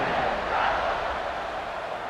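A stadium crowd roars in a college football video game as the teams line up for the kickoff, a dense, steady wash of cheering close and loud throughout with no clear break.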